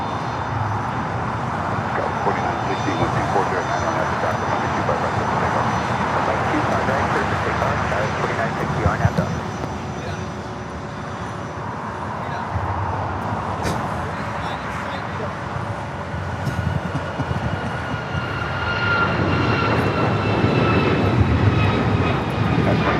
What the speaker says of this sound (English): Cessna Citation CJ3 Plus